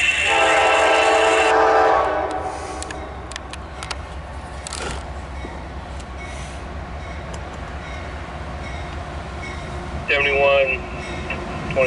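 A CSX freight train rumbles past with a loud horn blast at the start, then steady rolling clatter of cars and a short squeal near the end.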